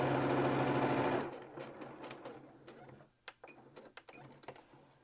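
A sewing machine stitches around the corner of a fabric mask, running loud and steady for about a second before stopping, then a few light clicks and handling taps follow close by.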